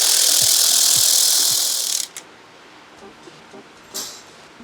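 A ratchet tightens the rear axle nut on a Yamaha TT250 motorcycle, giving a few spaced clicks under a loud hiss for about two seconds. Quieter faint taps and rattles follow.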